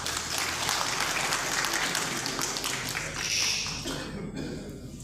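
An audience claps steadily for several seconds in a full, even wash of applause with no voices standing out.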